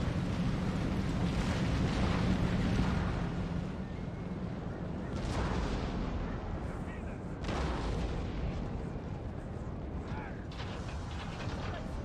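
Dense, continuous battle noise in Napoleon: Total War with repeated booming cannon blasts and rumbling impacts, loud throughout, with a few sharper bursts standing out.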